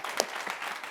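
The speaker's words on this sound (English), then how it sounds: "Can we have a round of applause?" Audience applause at a dance event honoring Katherine Dunham, a short steady burst of clapping from a live crowd, fairly faint and brief.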